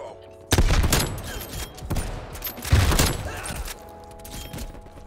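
Two loud, booming shots from a Swiss K31 bolt-action sniper rifle in Call of Duty Black Ops Cold War, each with a long rumbling tail, over steady game noise.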